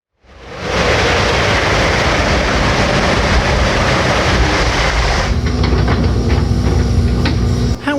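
A train passing close by, a loud, steady roar of wheels and rushing air that swells in quickly and holds, later joined by rhythmic clicking of wheels over rail joints.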